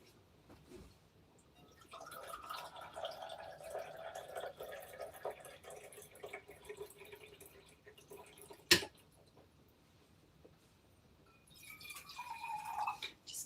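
Water runs from the tap of an urn into a container, a soft filling trickle rising in pitch as it fills, with a sharp knock midway and faint background noise.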